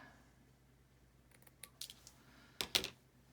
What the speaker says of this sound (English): I need my smaller scissors. There we go. And then I'm just going to kind of cut this row away.